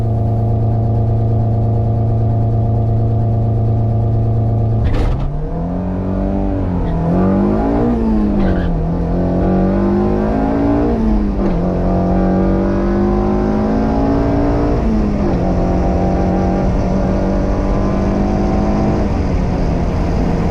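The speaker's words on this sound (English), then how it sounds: "You might be able to hear at the end of the run it was kind of breaking up" A K24-swapped Honda Civic makes a full-throttle drag strip run, its engine loud and close, droning through rising and falling gear pulls, then turning rough and uneven as it breaks up toward the end.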